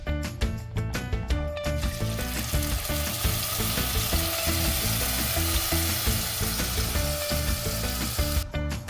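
Raw blended curry paste for a spicy Malaysian chicken curry fries in oil in a pan, giving a loud, steady, close sizzle with frequent small clicks and scrapes of stirring throughout.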